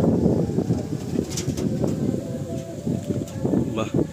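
Pigeons leave a loft in a burst of wing flaps and soft cooing, mixed with wind and nearby voices talking.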